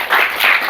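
Applause from schoolchildren at a Zilla Parishad school programme in Manivali, a dense crackle of many small hands clapping steadily for under a second, swelling in two waves with no voices over it.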